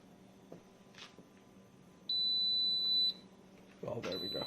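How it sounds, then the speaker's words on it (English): A GEVI 12-cup programmable coffee machine signals that brewing is done with electronic beeps: one long steady tone, then another starting near the end, over quiet room noise with a brief voice at the close. "This is the longest it's ever taken it to give me those 3 beeps."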